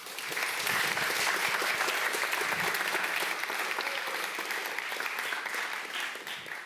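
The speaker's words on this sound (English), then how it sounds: "Wow, I get whoops." An audience applauds and whoops loudly and steadily for a visiting professor arriving at an evening public lecture, with dense clapping and cheers sustained throughout.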